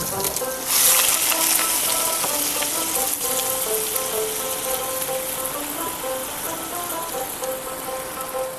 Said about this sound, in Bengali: পুরো পেঁয়াজটা দিয়ে দিচ্ছি পেঁয়াজটাকে মানে ভালো করে আমরা ভেজে নিচ্ছি